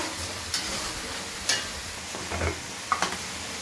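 Spice masala with salt and turmeric being sautéed for lote fish, giving a soft continuous sizzle with occasional spatula scrapes and taps against the pan at irregular intervals, close and fairly quiet, with no talk.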